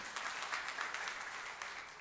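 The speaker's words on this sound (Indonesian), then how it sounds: "tepuk tangan yang meriah untuk kemuliaan Tuhan" A church congregation applauds during a sermon, a continuous, even patter of many hands, faint and distant throughout with no voices over it.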